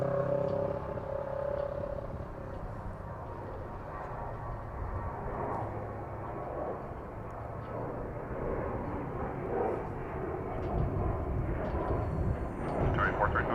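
A low, droning engine rumble from an aircraft at DFW Airport holds steady throughout, with faint radio-style air traffic control voices murmuring over it.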